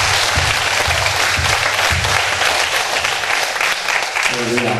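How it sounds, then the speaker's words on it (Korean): Congregation applause during an evening revival service in a Korean church, loud continuous clapping with rhythmic low thumps and voices mixed in. "멸하신 예수께 영광의 박수를 주시겠습니다."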